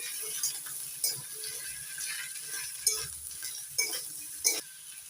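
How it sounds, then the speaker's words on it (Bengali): Cut potatoes are stirred into onions fried light red in a pan for a puti fish chochchori, with soft frying sizzle and intermittent sharp scraping clicks of the spatula. "এবার দিয়ে দিচ্ছি আলু কেটে এনে আলু দিয়ে একটু নাড়াচাড়া করে নিচ্ছি"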